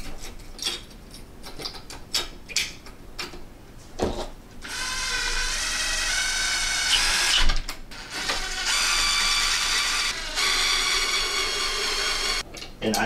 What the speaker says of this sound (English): Grab a little power tool.